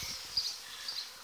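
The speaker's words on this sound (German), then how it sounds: "Hier sind leider so viele Bienen." A swarm of honey bees buzzes outdoors after swarming: a thin, steady mid-high drone of many wings, fairly faint and continuous, with a few louder passes as bees fly close by.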